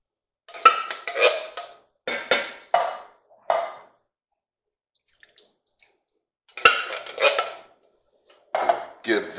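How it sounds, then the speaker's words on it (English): A spoon clanks and scrapes against a pot while chili with beef broth and diced tomatoes is stirred, coming in close, loud bursts separated by short silences. "give this a quick stir"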